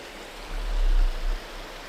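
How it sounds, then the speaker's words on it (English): A creek runs through a campsite by a tree line in Montana, giving a steady close wash of flowing water with a soft low swell in the middle, with no voices. "Got a creek running through camp."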